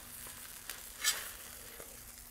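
Blackened catfish fries on a Blackstone griddle, a quiet steady sizzle with a brief louder hiss burst near the middle and a few soft spatula taps.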